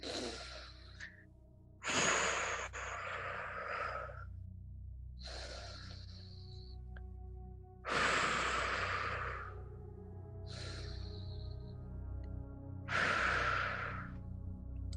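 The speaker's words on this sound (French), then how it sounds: "fermer les yeux et déjà à prendre 3 grandes respirations" Three deep, slow breaths, each a long audible inhale followed by a breathy exhale, spaced evenly and heard close up with no talking.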